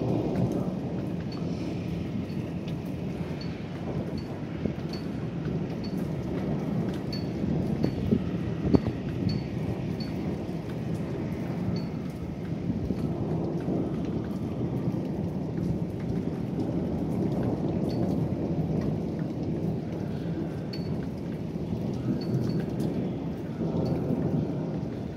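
Thunderstorm over Zürich, Switzerland: steady heavy rain with continuous rolling thunder rumbling throughout, occasional sharper cracks standing out above the dense downpour, no voices.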